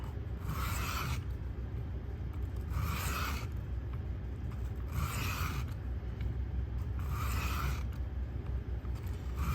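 A Richter knife blade is drawn across a sharpening stone in slow, even strokes, about five rasping passes spaced roughly two seconds apart, close and clear against a steady low background with no talking.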